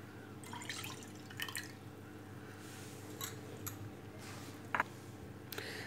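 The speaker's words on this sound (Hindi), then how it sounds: "वो चटनी का पानी डालूँगी मैं।" Strained chutney water being poured while making gol gappe, giving soft trickling and splashing with scattered drips and small clinks, close and fairly quiet.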